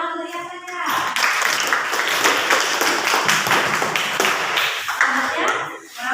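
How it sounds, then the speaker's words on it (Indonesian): A classroom of students breaks into clapping for a classmate, starting after a brief moment of talk and continuing as a busy, fairly close patter of many hands before trailing off at the end. "Tepuk tangan untuk ya saja."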